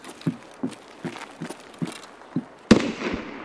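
Sniper gunfire from a scav in a dark-day raid of a tactical shooter game: a series of sharp reports at a steady pace, roughly every half second, ending in one louder, close crack.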